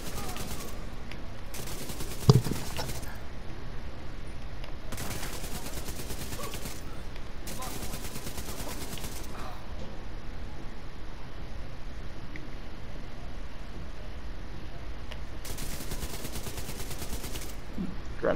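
Several bursts of automatic gunfire from the video game The Division 2 come and go at a steady loudness, spread over a long stretch of gameplay.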